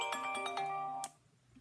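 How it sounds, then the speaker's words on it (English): A mobile phone ringtone plays a short melodic run of bright repeated tones, loud and close, then stops abruptly after about a second, leaving quiet room tone. "And there goes my phone."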